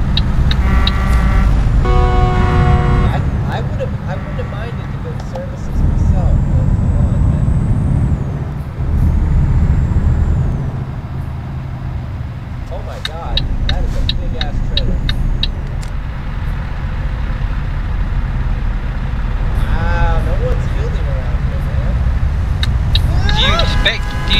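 Bus driven in Euro Truck Simulator 2 multiplayer: a steady engine drone runs throughout, with air brake hisses and a horn toot, while voices talk and laugh over it.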